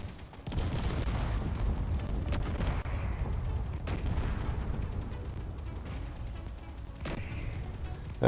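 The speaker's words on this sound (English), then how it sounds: "And they are shooting." Guns firing in the video game Space Engineers, heard as a dense, loud, continuous booming rumble with a few sharper blasts cutting through at irregular intervals of a second or more, close and with no voices.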